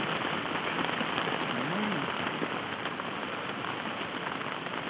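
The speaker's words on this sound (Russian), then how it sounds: "видно, дождь. Легкий дождь, но я мокрый." Light rain falls steadily outdoors during a fishing trip in Germany, a soft continuous patter at moderate level throughout, with a brief low voice murmur partway through.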